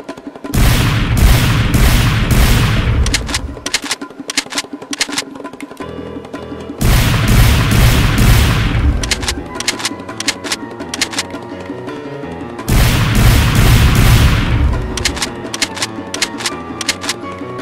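Three bursts of rapid, loud mechanical clattering from a LEGO lever-action toy gun being test fired, each lasting a few seconds and separated by quieter clicking pauses, with no talk.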